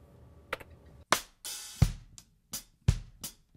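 Drums heavily compressed in two stages, including an LTD2 compressor, play a sparse pattern, a few punchy, thick hits with pumping tails and brief silences between them.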